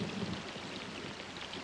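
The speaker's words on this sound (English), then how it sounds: "Rainforests are called rainforests because it rains most of the time." Rain falls steadily in a tropical rainforest, a dense, even hiss of drops with no pauses and no voices.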